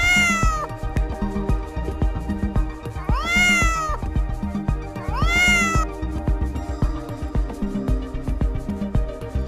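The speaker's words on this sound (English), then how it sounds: "Cat says, meow, meow." A domestic cat meows three times, drawn-out and rising then falling, near and clear over a steady musical backing.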